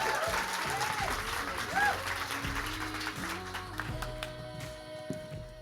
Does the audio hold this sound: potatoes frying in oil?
no